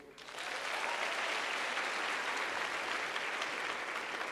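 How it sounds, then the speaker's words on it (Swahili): An audience claps for a speaker, with dense, steady applause that swells within the first half second and holds evenly, heard at a slight distance and fairly quiet. "Tumpigie makofi."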